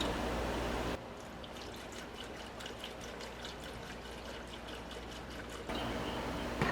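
Liquid poured from a bottle into the engine bay of a long-stored Pontiac, a soft gurgling trickle with small glugs, fairly close and quiet, with a faint background hum before and after.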